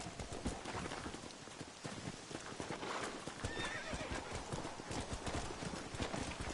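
Video game horse hooves clip-clop in a quick, steady rhythm, with a brief whinny partway through over a dense, noisy background.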